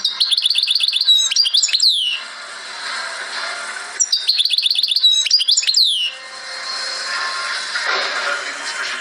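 Songbird singing the 'laglag' (leg leg) note in Algerian style: two loud, close bursts of rapid repeated chirps and sweeping trills, each followed by a quieter, softer warbling passage.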